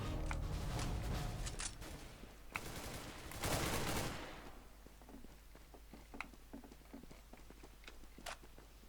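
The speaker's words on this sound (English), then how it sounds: "I was like shooting at his head and I didn't hit him" Gunfire in Counter-Strike: Global Offensive comes as a loud burst of rapid shots during the first few seconds. Quieter footsteps and clicks follow, with no voices.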